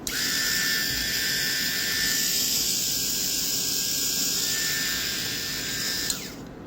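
DSP 60087 electric shaver running steadily with a high, even buzzing whine held close for several seconds before it switches off abruptly near the end.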